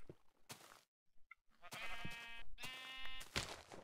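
Sheep bleating in the video game Minecraft, several short wavering bleats in quick succession with brief gaps, fairly loud and close, with no talking over them.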